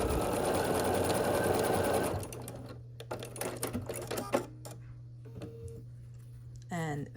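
A sewing machine runs steadily for about two seconds while stitching a quilt block seam for a scrappy sampler, then stops. Quieter handling clicks and rustles follow, with a short whirring burst near the end.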